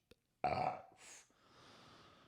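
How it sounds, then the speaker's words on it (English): A single loud, close burp from a podcast host, abrupt and strong at first and trailing off into a softer exhale, followed by faint room noise. "Sorry, I had to burp."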